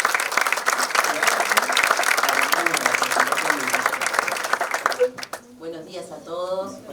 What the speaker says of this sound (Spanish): así que también le vamos a dar un fuerte aplauso.